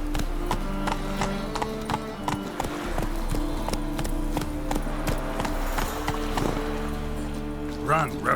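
Roach, Geralt's horse in The Witcher 3, gallops with steady rapid hoofbeats close by, layered over music and game ambience while a voice talks.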